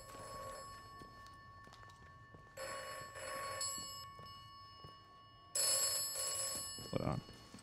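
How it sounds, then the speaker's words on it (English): Telephone bell rings out in bursts from the game Atomfall, three separated ringing spells at moderate loudness over a faint background hum, with a voice talking briefly near the end. "The phone's ringing."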